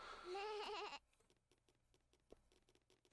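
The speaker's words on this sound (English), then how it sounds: "why has it got Susie Sheep's cry?" Susie Sheep's bleating cry from a Peppa Pig video game rings out as a single loud, wavering bleat lasting about a second, followed by quiet clicks and taps.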